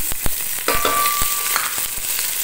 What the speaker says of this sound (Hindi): प्याज को अच्छा सा फ्राई करना है।